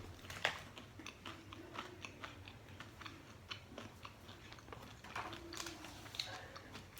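Crunchy bites and chewing of a pink Danish chocolate almond bar, faint and close, a series of small crisp crunches spread steadily throughout.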